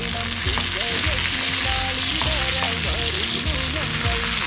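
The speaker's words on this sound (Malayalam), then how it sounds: "നമ്മൾ കഴുകിയ വേപ്പില ഇട്ട് ഒന്ന് ചൂടായ ശേഷം" Washed curry leaves crackle and spit in hot oil while tempering an Angamaly-style mango curry, a dense continuous sizzle heard up close with faint clinks of stirring and no talk.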